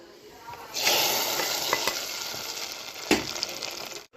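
Cashews and raisins fry in hot ghee for sweet Pongal, a close crackling sizzle that bursts up loudly, then settles into steady bubbling with a brief flare of spattering.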